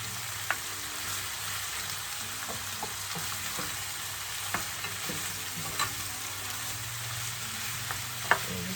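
Celery frying in a pan for a smoked turkey and mushroom stew, a continuous soft sizzle broken by occasional clicks and taps of stirring, no voices.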